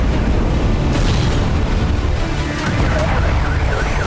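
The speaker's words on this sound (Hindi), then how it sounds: "प्रचंड आसमानी प्रहार के बाद आया बारूदी भूचाल।" Deep, continuous rumbling blasts from air strikes on residential buildings, a dense roar of explosions filling the whole stretch without a break, loud and heavy in the low end.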